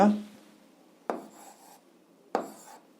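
A pen scratches on paper in an 8th-grade algebra lesson while a square root is written out: two short, faint scraping strokes about a second apart, with a brief murmur of voice at the very start.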